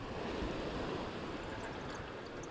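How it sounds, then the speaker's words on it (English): Ocean waves wash continuously at the shore in a dense, steady roar with no distinct breaks, heard at moderate volume with no voices over it. "Listen to the waves"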